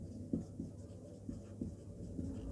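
Pen or chalk writing out a geometry proof, soft scratchy strokes in short bursts, quiet and close, no talk.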